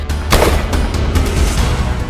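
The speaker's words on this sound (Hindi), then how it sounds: "जिसमें वे अपने आवास पर राइफल से फायरिंग करते हुए दिख रहे थे।" Rifle gunfire at a home during a Diwali celebration: loud, sharp bangs in quick succession with a booming, echoing tail and no voices.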